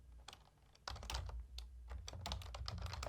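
Keys clatter steadily on a computer keyboard, quiet and close, with a brief pause before a denser burst of typing.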